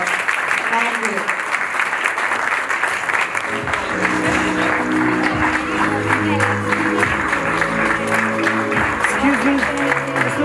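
Audience applause at a school investiture ceremony, a dense crowd clapping steadily and loudly throughout, with voices and other sounds layered over the second half.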